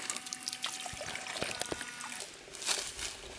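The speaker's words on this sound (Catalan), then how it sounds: "estem bombejant aigua." Water from a solar-powered pump trickles and splashes quietly and continuously, with a few small drips and gurgles standing out.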